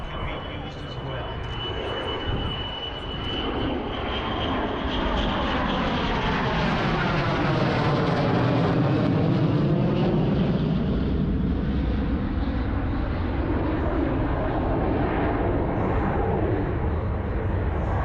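A jet fighter with a lift fan system flies past at an airshow, a loud engine roar swelling toward a peak and easing off, with a falling whine as it passes, and a voice talks over it.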